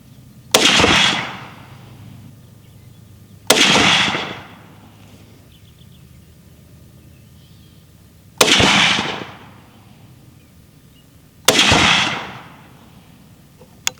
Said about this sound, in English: Let's take another 5-shot group right on top of the first.